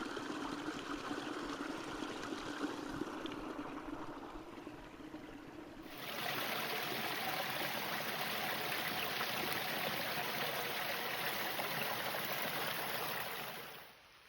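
A small stream flowing beside a hiking trail: steady broadband trickling and rushing water, close and continuous, growing fuller and brighter partway through before tapering at the end, with no talk.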